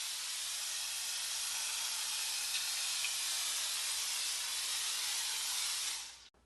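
An IK Foam Pro 12 pump sprayer sends out car wash foam in one continuous, loud, close hiss lasting several seconds before it cuts off abruptly.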